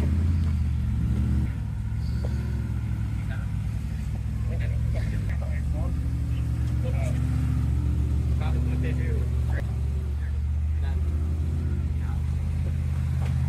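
A Jeep engine rumbles and revs as it accelerates uphill while towing another broken-down Jeep, a steady low drone under continuous talk from people in the vehicle.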